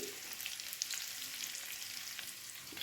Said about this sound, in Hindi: तो हम फ्राई कर लेते हैं 1 से 2 मिनट। तो इसके साथ ही मैं इसमें चिकन क्यूब्स डाल दूँगी।